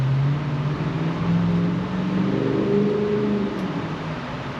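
Ghost engine idling with a big hole in its exhaust system, a loud steady low drone whose pitch wavers and rises slightly midway, heard up close with no talking.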